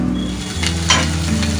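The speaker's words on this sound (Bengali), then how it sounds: "এটা কি রান্না করছো? এটা একটু ফুলকপি দিয়ে পোস্ত দিয়ে।" Cauliflower with poppy seeds fries in white oil in a pan, a close, steady sizzle broken by a couple of brief stirring scrapes.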